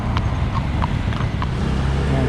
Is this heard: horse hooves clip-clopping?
yes